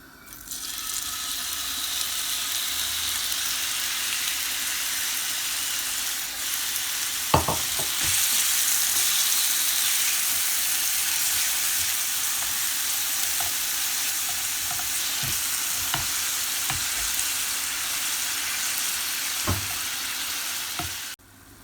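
Chicken fries in about a tablespoon of oil in a pan for quesadilla filling, a steady close hiss and crackle that runs throughout, with a few sharp clicks and scrapes.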